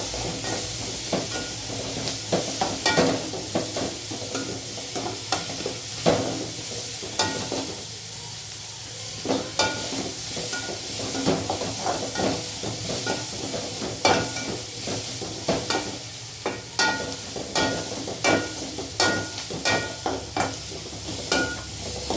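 Tomatoes and squid stir-fried in a hot pan for a spicy squid thokku, with continuous loud sizzling and hiss broken by frequent scraping strokes of a ladle against the pan, alone with no talk.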